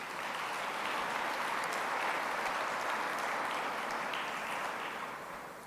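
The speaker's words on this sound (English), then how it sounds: "I think that deserves a round of applause." Audience applause fills a hall during a state agriculture address, a steady, dense wash of clapping that holds evenly for several seconds before tapering slightly at the end.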